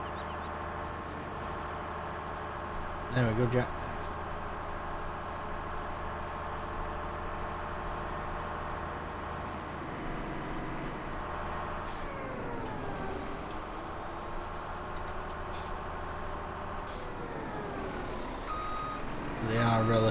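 A truck in Farming Simulator 17 drives along, its steady engine drone joined by reversing beeps and a hiss of air brakes, with someone talking briefly over it.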